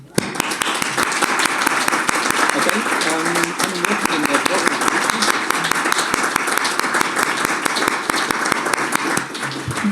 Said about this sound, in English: give us all a chance to give a hand of applause to our Member of Parliament, Gord Johns.